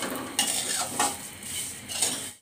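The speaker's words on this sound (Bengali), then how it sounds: "তারপর আমি একটু ঘিয়ে ভেজে নিতেছি" Vermicelli being stirred and fried in ghee in a pan, with scraping utensil strokes, clinks against the metal and a soft background sizzle, close and alone.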